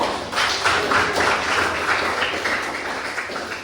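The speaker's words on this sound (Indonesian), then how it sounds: "tepuk tangan dulu teman-teman ya" Classmates in a school classroom clap together, a dense steady round of applause lasting several seconds with no talk over it.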